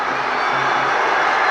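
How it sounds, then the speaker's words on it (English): Wakefield rugby fans behind the posts erupt after a try, a dense, loud, sustained roar of cheering with no pause. "The crowd behind the post go absolutely ecstatic."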